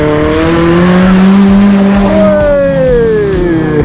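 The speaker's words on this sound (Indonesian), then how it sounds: "sekarang kita melihat banyak motor trail yang lewat sini teman-teman." Trail motorbikes pass by on a tourist jeep adventure route at Coban Talun, engines loud and close, revving with pitch rising and then falling as they go past.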